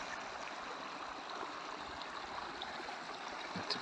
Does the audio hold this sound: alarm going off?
no